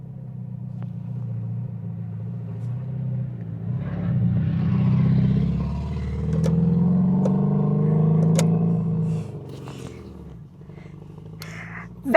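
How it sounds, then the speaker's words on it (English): Off-road vehicle engine driving nearby in the desert near Joshua Tree National Park, a low steady rumble that rises and falls with throttle over several seconds, with faint clicks and knocks on top. "Now that's an off-road vehicle."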